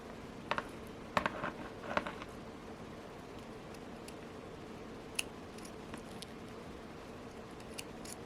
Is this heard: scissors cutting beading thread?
yes